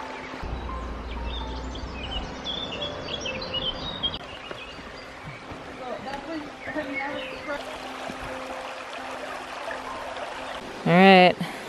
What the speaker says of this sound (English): this is where the waterfalls are